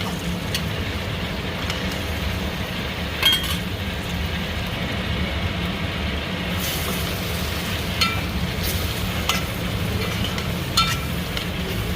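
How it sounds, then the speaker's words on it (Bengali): Spices and tomato fry in oil in a pan, giving a steady, moderate sizzle throughout with occasional light clinks of a utensil against the pan. "মশলা ভালো ভাজা হয়ে গেছে, মশলাটা তেল ছেড়ে দিচ্ছে। এখন দিলাম টমেটো তাড়াতাড়ি গলে যাবে"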